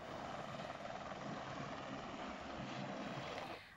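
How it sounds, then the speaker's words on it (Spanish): Firefighting helicopters working over a wildfire, a steady, dense rotor roar that holds constant throughout and fades slightly at the very end, with no voices. "Bomberos y varios helicópteros trabajan para controlarlo y extinguirlo."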